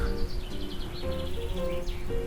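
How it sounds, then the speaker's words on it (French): A bird calls in short chirping phrases beside a waterfall at the Cascade du Déroc, fairly close and distinct over the steady rush of falling water. "Et là, on entend un oiseau."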